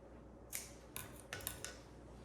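Scissors snip through fresh flower stems grown on a farm homestead, four or five crisp, close cuts in quick succession, clear and alone in a quiet room.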